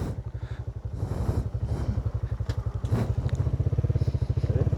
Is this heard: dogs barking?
no